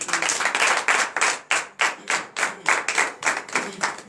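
A church congregation at a morning prayer service clapping in acclamation, a steady rhythmic beat of about two claps per second, fairly near and without talk.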